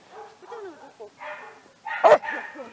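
Dogs at a Burgas animal shelter for stray animals bark and yip nearby in short bursts, with one loud bark standing out while someone speaks in between.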